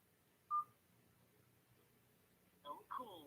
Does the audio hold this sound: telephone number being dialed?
yes